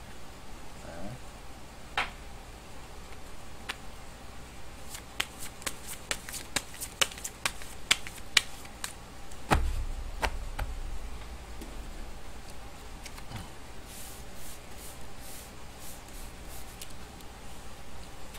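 Tarot cards being shuffled and handled, a run of crisp clicking flicks and snaps with a brief soft thump midway, heard close and without talk.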